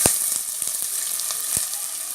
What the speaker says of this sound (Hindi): प्याज को हमें हल्का सा भून लेना है